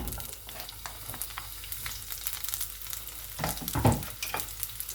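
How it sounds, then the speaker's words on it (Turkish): Half an onion sizzles steadily in a hot pan, a soft continuous frying hiss with crackles and a brief louder stir near the end. "tavam ısındıktan sonra yarım soğanı üzerine eklemiş olacağım"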